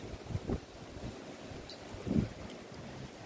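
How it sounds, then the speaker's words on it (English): Wind rushes and buffets against the microphone in low, uneven gusts, with a steady outdoor hiss and no talking. "Look how windy it is."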